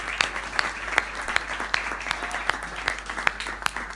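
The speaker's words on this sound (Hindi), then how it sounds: "यहाँ से लेकर और वहां तक हाथ उठाकर बजाओ ताली।" An audience at a Hindi comic poetry gathering (hasya kavi sammelan) applauds in a continuous wash of clapping, with regular louder claps standing out in a steady rhythm.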